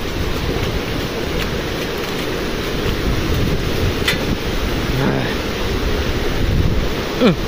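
Continuous rushing water churns loudly and close under a bridge on a Harishchandragad trek in Maharashtra, a steady broadband roar with some wind buffeting and no voices.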